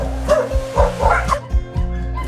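An abandoned stray dog caged at a crowded shelter in Kaohsiung gives a quick series of four or five close, loud barks and yips, with short whimpery gaps between them.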